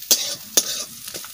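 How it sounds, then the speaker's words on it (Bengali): Spice paste with onion and garlic frying in a pan, with three sharp spatula scrapes over a faint, low sizzle. "মশলা আবার ভালো করে ভাজা হয়ে গেছে"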